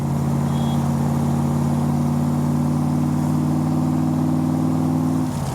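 A 1965 Backdraft Cobra with a Roush 427 V8 pulls hard through a gear, its engine note droning loud and close with a steady rising tone, then easing off at the end.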